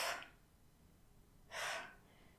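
Two soft, breathy exhales during a Pilates workout, a short one at the start and a longer one about 1.5 seconds later, close and quiet with silence between them.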